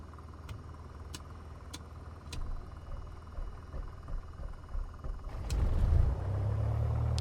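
A Piper PA28 light aircraft engine in Microsoft Flight Simulator 2024 cranks over amid faint ticking, then catches and settles into a low, steady idle rumble.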